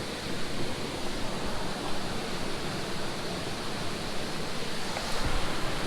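Water pouring over a creek waterfall, a loud, steady broadband rush that stays constant and close, with no voices over it.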